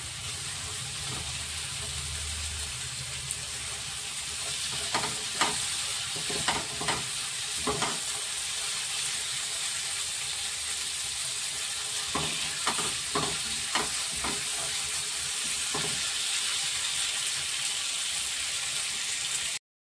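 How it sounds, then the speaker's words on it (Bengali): Green peas fry in a wok with a constant sizzling hiss, broken by clusters of spatula scrapes and clinks as they are stirred. "কড়াইশুঁটি দিয়ে দিলাম"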